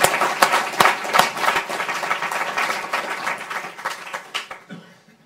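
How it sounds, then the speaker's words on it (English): A presentation audience gives a steady, dense round of applause with a few sharp individual claps, sustained for several seconds before tapering off at the end. "a round of applause for a very inspiring and enlightening presentation."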